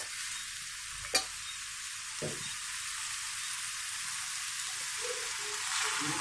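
Ridge gourd and tomatoes sizzle steadily in a frying pan while a ginger ridge gourd curry is being made, a soft continuous frying hiss with a single sharp clink of the utensil and a few faint stirring scrapes.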